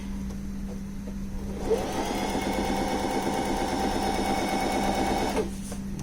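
A bernette b05 sewing machine runs a straight stitch with 3 mm stitch length, giving a steady, close mechanical whir and rapid needle clatter for about four seconds. A low electrical hum is audible before and after.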